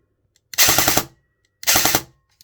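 Airsoft M4 AEG fitted with a Perun v2 trigger unit firing two short full-auto bursts, each about half a second of rapid, loud, close mechanical rattling separated by silence.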